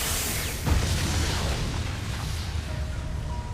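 In an anime fight scene from Jujutsu Kaisen, a deep explosive boom hits early, then rumbling blast noise trails off into a lower, steady roar.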